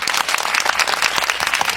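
Loud, close applause of many hands clapping in fast, continuous bursts, filling the moment without any voices.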